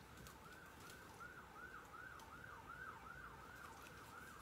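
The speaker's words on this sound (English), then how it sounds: "Hear the sirens? Never fails." Distant emergency siren wailing in a steady rising-and-falling cycle, repeating about a dozen times, faint and continuous behind a low background hum.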